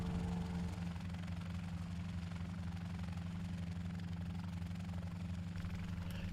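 A training helicopter's engine and rotor drone in a steady, loud, continuous hum with a low rhythmic beat while the aircraft comes in to land.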